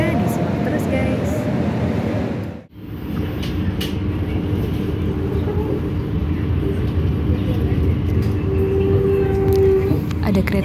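Steady rumble of a passenger train at an Indonesian station, with a broad continuous roar, a brief dip near the start, and a faint tonal squeal late on.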